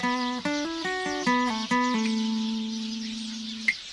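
A short electric guitar lick from a song's solo, a quick run of clean plucked notes stepping in pitch before settling on one sustained, fading note, played alone at moderate volume.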